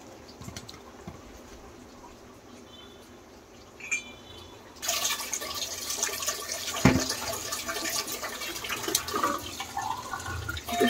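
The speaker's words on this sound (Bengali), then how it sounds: "পানি দিয়ে দিতে হবে।" Water is poured into a cooking pot midway through, a sudden hissing, splashing gush that runs steadily for several seconds after a quiet stretch of faint kitchen clatter, with a metallic clink along the way.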